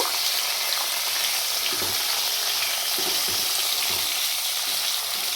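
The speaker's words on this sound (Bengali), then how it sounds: "টমেটোটা দিয়ে দিলাম। টমেটো আগে থেকে কুচিয়ে রেখেছিলাম। একটু নাড়াচাড়া করে নেব।" Chopped tomatoes fry and sizzle in a pan for a Bengali doi potol recipe, with a steady loud hiss and occasional scraping stirs of a spatula, no voices.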